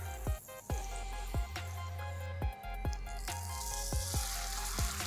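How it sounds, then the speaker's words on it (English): A tandoori chicken burger frying on a hot tawa, with a steady sizzle broken by repeated sharp taps and scrapes from a spatula pressing the bun. "The next is to pan fry this burger and make it,"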